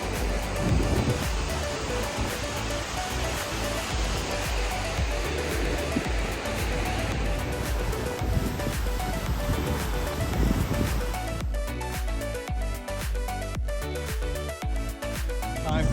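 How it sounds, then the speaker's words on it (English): Surf and wind at Miami Beach make a constant loud, broad rush, with waves washing in and gusts buffeting the microphone throughout. "We are now in Miami Beach, here at the world famous Miami Beach."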